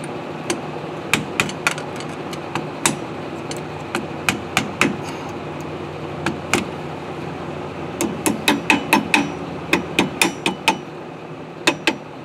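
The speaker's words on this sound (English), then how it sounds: "we're going to take our screwdriver and we're going to peen this over" Sharp metallic taps of a hammer striking a screwdriver to peen over a nut on the front brakes of a 1965 VW Bug, struck singly at first, then in quick runs of several blows, over a low steady background hum.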